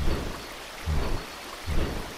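Heavy rain pours steadily in a broadband hiss while deep thunder rumbles roll in and out in two low swells, loud and close, with no voices.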